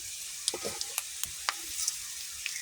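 Onions already fried until reddish in hot oil sizzle softly as panch phoron spices are added, with a steady faint hiss, scattered crackling pops and a few light scraping stirs, no voices.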